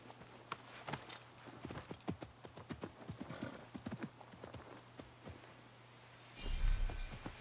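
Horse hooves clip-clop along a road in Assassin's Creed Mirage, an uneven run of sharp, close hoofbeats, quiet overall, ending with a brief louder snort or whinny-like burst.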